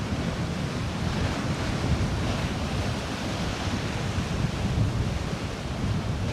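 Strong wind and crashing waves on a cold Danish coast, a loud steady roar of surf with heavy wind buffeting the microphone and no voices.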